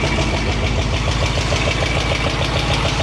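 A 1965 Ford Mustang GT V8 idles with no tailpipes fitted, loud, close and raucous, with a steady rapid lumpy pulse throughout and no voices.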